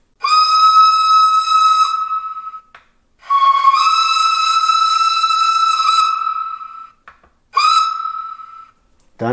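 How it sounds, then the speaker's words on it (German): A 1:32 scale model of a class 97.1 rack-railway steam locomotive sounds its whistle loud and close: two long sustained blasts followed by a short toot. "Beginnen wir mit der Pfeife. Die gibt es als lange Pfeife oder als Kurzpfiff."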